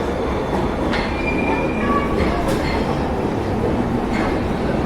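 A subway train runs with a loud, continuous rumbling roar, broken by thin wheel squeals and faint clicking of the rails throughout.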